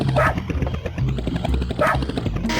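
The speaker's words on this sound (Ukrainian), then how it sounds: "Це один пес." Dog barks from the Dreamcast game 102 Dalmatians, two short barks about a second and a half apart, loud over busy game music and effects.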